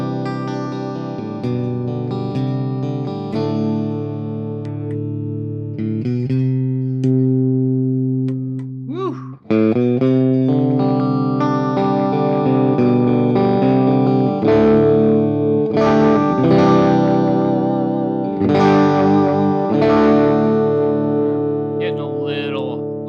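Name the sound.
electric guitar played loud through effects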